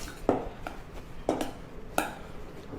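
Crab salad and quinoa are stirred in a bowl, with a few sharp utensil scrapes and clinks against the bowl spaced through the moment, fairly quiet and close.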